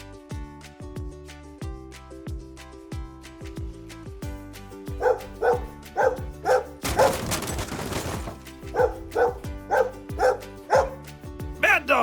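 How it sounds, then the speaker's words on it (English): A dog barks in quick repeated bursts, loud and close, over background music in a toy pretend-play scene, with a short noisy burst between the barking runs. "Bad dog, Giles."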